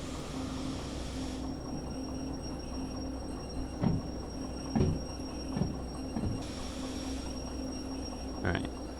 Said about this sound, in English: it's a big heavy train